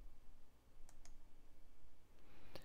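Computer mouse clicks in Mixcraft 5 audio software: a few sharp, close clicks spaced apart, with one quick pair near the end, over a faint low background hum.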